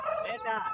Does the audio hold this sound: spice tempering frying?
no